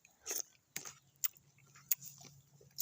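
Close, crisp crunching bites and chewing of spicy Thai larb eaten outdoors in a rice field setting, several separate crunches spaced irregularly with quiet gaps between, no talking.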